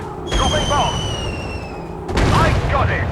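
Warplane guns fire in a video game air battle over Britain against German attackers, rapid bursts of gunfire in two main volleys with a descending whine running between them, loud and close.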